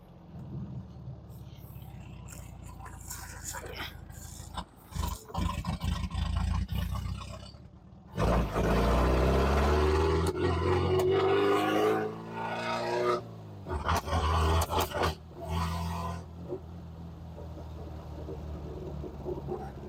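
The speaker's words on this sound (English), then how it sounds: "Yep, backfires out of the carburetor." An MGB's engine roars loudly through hard revs in two long bursts, with sharp pops as it backfires through the carburetor, amid lower idling rumble and brief quieter stretches.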